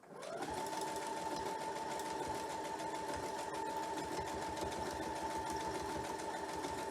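A sewing machine runs a seam through a clamshell quilt block, a steady close whir of rapid stitching that holds without pause from start to finish, with no talking.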